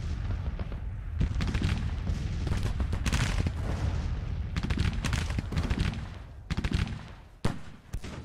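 Musket volleys from Grand Tactician: The Civil War, a Civil War battle game with Confederate infantry, crackle in dense, overlapping bursts with a few sharper cracks, steady and loud throughout with no talk.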